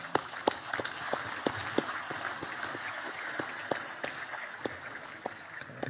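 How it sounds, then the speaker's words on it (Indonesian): Applause at an outdoor education day ceremony, a crowd clapping in a steady rhythmic beat of sharp, evenly spaced claps over a diffuse background of scattered hand claps, moderately distant. "Tepuk tangan."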